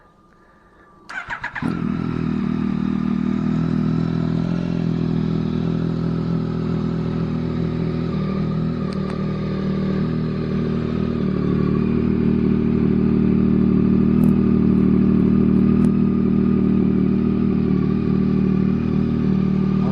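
A Yamaha MT-09 motorcycle with an aftermarket exhaust starts with a sharp burst, then idles steadily and loudly with a deep, throaty rumble that holds for the whole stretch.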